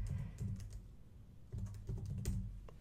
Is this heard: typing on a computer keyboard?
yes